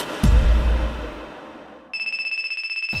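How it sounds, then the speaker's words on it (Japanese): After a dull thump and fading noise, a telephone starts ringing with a bright, rapidly pulsing electronic tone, close and clear, continuing to the end. "プロデューサーからの電話で目を覚ました僕が"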